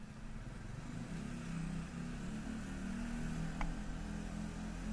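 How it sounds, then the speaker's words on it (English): A Benelli motorcycle engine lugs at low revs while riding through the old quarter of Jiangmen City, giving a steady, close, low droning rumble that stays even throughout with no talking. "Even the Benelli's kind of lugging down a little bit."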